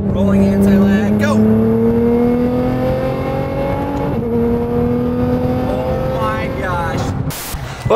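A 600 whp Nissan GTR pulls hard from a roll with anti-lag, its engine note climbing through rising gear pulls and brief shift dips, loud and close, with voices talking over it.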